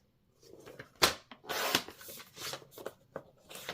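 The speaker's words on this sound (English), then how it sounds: "Let's begin by trimming our card base. We're going to go ahead and cut it in half at 4 1/4 inches." Cardstock card base trimmed in half, heard as a few brief, close scraping and rasping strokes with quiet shuffling between them and no voices.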